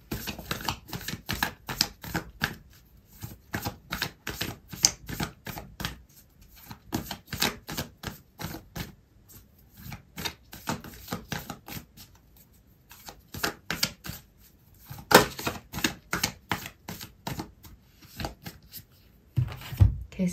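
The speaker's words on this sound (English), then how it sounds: "I'm going to pull out an oracle card for you" A deck of oracle cards is shuffled repeatedly during a tarot reading, giving close, crisp riffling and slapping bursts in an irregular rhythm that pause briefly and resume for about twenty seconds, with no talking.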